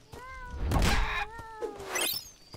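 A cat meows in the video game Sir Whoopass, several short tonal cries in a row, the middle one louder and rougher, with a faint thunk between them.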